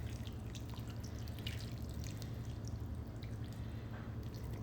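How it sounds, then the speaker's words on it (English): Water from a cup pouring into a cooking pot while preparing chicken and gravy, a steady faint trickle with scattered drips and splashes, alone and continuous throughout. "So we're gonna add some regular water,"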